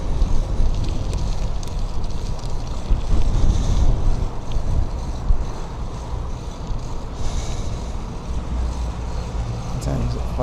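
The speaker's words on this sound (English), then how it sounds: "It's like blow me off my bike windy." Strong gusty wind roars steadily into the microphone while cycling a fixed-gear bike through town at sunset, a loud continuous buffeting with no speech.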